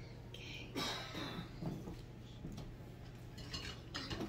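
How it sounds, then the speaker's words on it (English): Utensils stirring and clinking against a bowl of salad with oranges, a light scraping and tapping pattern near and fairly quiet, with soft bursts repeating through the moment. "And we're gonna stir this one right on up."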